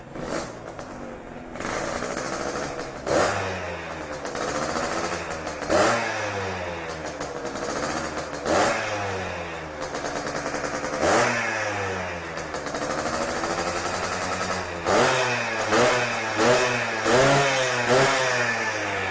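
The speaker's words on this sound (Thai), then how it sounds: "ฟังเสียงท่ออีกทีนะ" A Yamaha DT100 two-stroke motorcycle with a freshly rebuilt engine idles with a raspy, buzzing exhaust and is revved repeatedly, each blip rising sharply in pitch and falling back, close and loud.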